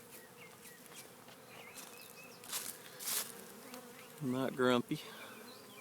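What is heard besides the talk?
swarm of honey bees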